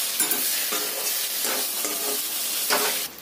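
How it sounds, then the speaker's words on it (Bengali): Soybean masala with Kashmiri chili powder and sugar being dry-fried in a pan, a loud dense sizzle with rhythmic scraping strokes of the stirring spoon roughly every half second. "এটা খুব ভালো করে শুকনো শুকনো করে কষিয়ে নিতে হবে।"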